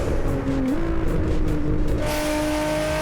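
A Nissan G37 with its VQ engine and manual gearbox drones steadily in the No Hesi racing game, its pitch dipping briefly at a gear change before the engine pulls on at an even, loud hum.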